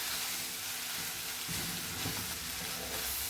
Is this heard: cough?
no